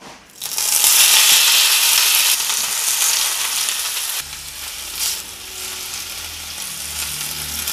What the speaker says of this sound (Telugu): మళ్ళీ ఒక 1 టీ స్పూన్ ఆయిల్ వేస్తున్నానండి పాలకూర వేయించుకోవడానికి